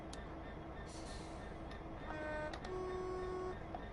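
An AWS warning tone sounds in a train cab in Train Sim World 5: a steady, faint electronic horn holding for about a second near the end, over a constant hum and rattle of the locomotive.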